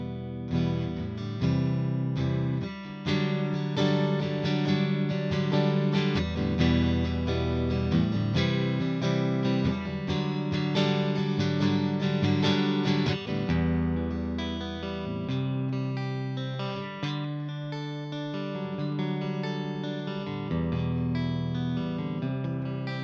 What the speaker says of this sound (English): Now some clean tones to the neck pickup on this Frankenstrat.